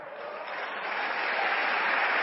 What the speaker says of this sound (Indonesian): Ya Allah, yang tepuk tangannya keras.